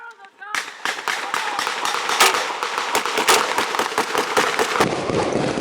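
Blank gunfire at a D-Day reenactment in Ohio, a rapid crackle of many close sharp shots including machine-gun bursts, continuing steadily over shouted voices.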